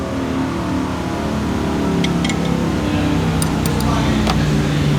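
A motorcycle engine revs on a dyno behind a workshop, giving a loud, continuous rumbling drone that fills the whole stretch, with a few faint metallic clicks in the middle.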